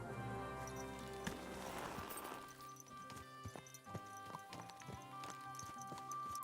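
A horse walks in Kingdom Come: Deliverance II, its hooves clip-clopping in an even rhythm over a soft background music bed.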